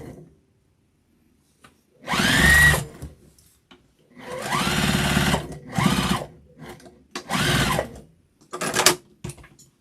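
A sewing machine stitches a flannel infinity scarf closed, running in several loud bursts of whirring separated by silent pauses, close and clear with no talk.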